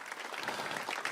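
A church congregation bursts into applause, a dense wash of hand clapping that stays steady and fairly loud through the short moment, with no voices over it.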